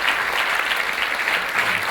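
An audience at an Ecologistes national meeting applauds, with steady, dense clapping from a crowd throughout, no voices standing out.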